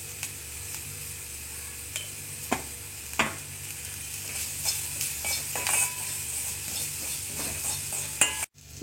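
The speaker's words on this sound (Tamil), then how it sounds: "இந்த காய் கொஞ்சம் நேரம் வதங்கட்டும்." Vegetables sauté in coconut oil with curry leaves in a pan, a continuous soft sizzle broken by occasional close spatula taps and scrapes, with no talking.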